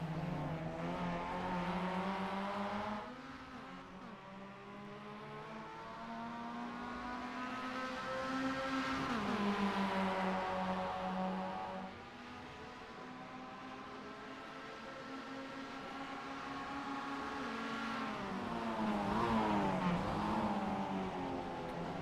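Mazda MX-5 race cars battle for position in a racing video game at Sebring, engines droning loudly and rising in pitch through gear changes, with several surging accelerations and a car sweeping past up close.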